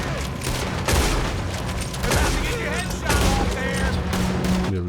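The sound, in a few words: gunfire in the video game Red Dead Redemption 2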